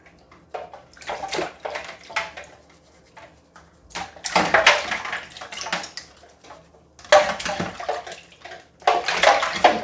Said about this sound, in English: It's clean water now, and I'll just rub each brush like this.